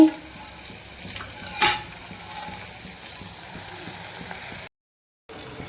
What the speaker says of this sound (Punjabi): ਲੋ ਜੀ ਤੜਕਾ ਲਾ ਦਿੰਨੇ ਆ